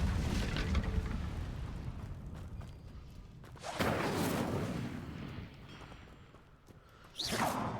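Incendio fire spells cast in Hogwarts Legacy, three roaring whooshing bursts of flame spaced several seconds apart, each swelling loudly then fading over a rumbling game backdrop.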